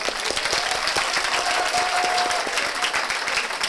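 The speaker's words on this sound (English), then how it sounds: "Give yourself a big round of applause first." A roomful of session attendees applauds steadily, dense clapping from many hands filling the space at an even level throughout, with a faint tone running beneath.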